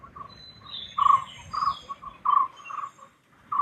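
Bird calls ring out from hillside jungle near Munnar, a series of clear, fairly close chirps and short song phrases in an irregular rhythm over soft background hiss.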